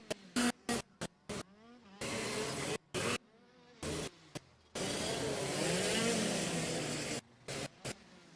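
KZ2 racing karts at a standing start give a loud, bursting engine roar that cuts in and out in short choppy blasts, with longer sustained stretches of high-revving noise, close and harsh.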